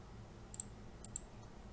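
Two pairs of sharp computer mouse clicks while copying lines in AutoCAD, spaced about half a second apart, quiet and close against a low steady room hum.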